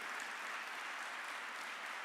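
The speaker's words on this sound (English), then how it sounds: "Give them a round of applause." Faint, steady audience applause at a county State of the County address, an even wash of clapping heard from a distance for about two seconds.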